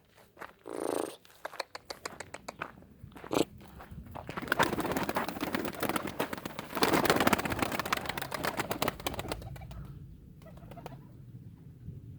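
Homing pigeons coo softly near a feed box, with a purring, rolling coo and brief wing flaps, punctuated by clicking and rattling sounds that swell and fade.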